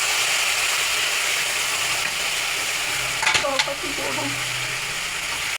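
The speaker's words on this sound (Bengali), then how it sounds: "এবার এই সেদ্ধ করা শাকটা আমি ঢেলে দিচ্ছি।" Boiled Malabar spinach hits hot oil tempered with bay leaf and turmeric, and a loud continuous sizzle and hiss fills the clip, with a brief burst of crackling and stirring partway through.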